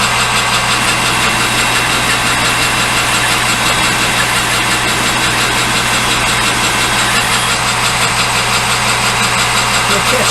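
A metal part is turned down in a machinist's shop, making a loud, continuous mechanical drone with a steady low hum that stays constant from start to finish.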